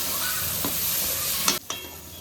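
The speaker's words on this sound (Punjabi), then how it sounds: "ਹੁਣ ਆਪਣਾ ਮਸਾਲਾ ਚੰਗੀ ਤਰ੍ਹਾਂ ਭੁੱਜ ਗਿਆ ਹੈ" Spiced masala of red chilli powder and green chillies sizzling and being stirred in a pan for baingan bharta, a steady close frying hiss with a few spatula scrapes and a brief dip near the end.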